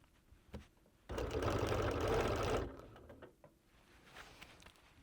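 A Sunbeam sewing machine stitches through a quilt in one steady, loud run of about a second and a half, with quieter handling sounds before and after.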